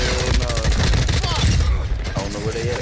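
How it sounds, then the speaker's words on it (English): Rapid bursts of automatic gunfire and sustained fusillade from an online shooter video game, dense and loud throughout, with chatter and game voices mixed underneath. "but I hear shooting"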